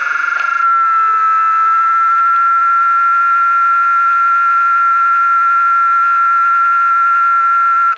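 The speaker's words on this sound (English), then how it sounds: "cicadas can produce sounds exceeding 100 decibels, making them among the loudest insects in the world" A cicada drones loud and close in one steady, high, shrill buzz that holds unbroken for several seconds, then cuts off abruptly.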